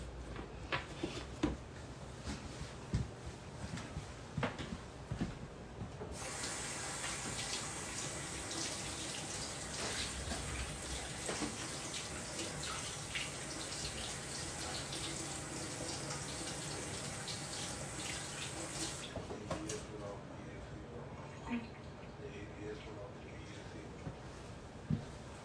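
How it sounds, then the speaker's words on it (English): A household tap runs at a sink while hands are washed, a soft, steady stream of water flowing for several seconds before being shut off, fairly faint and with no talking. "I'm going to wash my hands so I can grease my pan."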